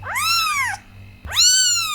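Young kittens in French Guiana give two loud, high, drawn-out meows close by, separated by a short pause, with no talk over them.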